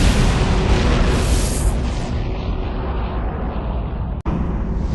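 A supernova explosion as a sound effect: a loud, sustained deep roaring rumble that fills the whole clip, swelling and fading slightly, with a brief sharp dropout near the end.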